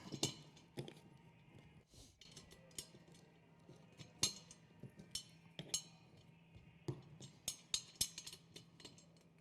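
Caster wheels friction-fit by hand into an ICON Scale chair base, one by one, producing a series of quiet, sharp plastic clicks and clacks at irregular intervals over a faint hum.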